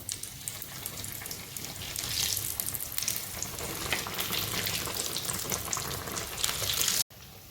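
Stuffed pav pakoda bread fritters frying in hot oil: a steady bright sizzle and crackle that holds throughout, with a few stirring or turning sounds, before it cuts off abruptly near the end.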